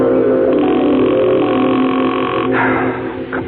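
A telephone in an old CBS radio mystery drama rings on and on without being answered, a loud steady electronic tone through a narrow broadcast-quality channel.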